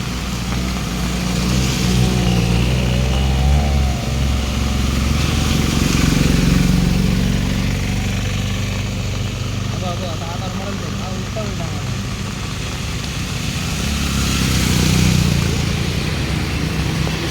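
An auto-rickshaw is driven through deep floodwater in a flooded Chiplun market street, a continuous loud engine rumble rising and falling slightly as people talk over it throughout.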